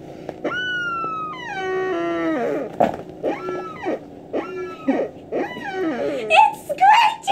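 A Dino Roar dinosaur toy from a yard sale gives high, sweeping screeches that bend and slide in pitch, repeating in short bursts amid voices and laughter.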